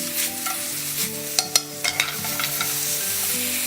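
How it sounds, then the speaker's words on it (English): Free-range chicken searing in a hot pan, a steady sizzle with a few sharp clicks and scrapes of stirring, with music faintly in the background. "I just want to make sure that the chicken gets good sear before we start to add vegetables"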